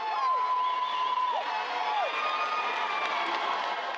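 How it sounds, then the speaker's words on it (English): A crowd in a gymnasium cheers as the mayor walks out, a sustained roar of many voices, shouts and high whistles, fairly loud and continuous throughout. "the group of people who showed up at the gymnasium cheer as the supermayor left in anger and frustration"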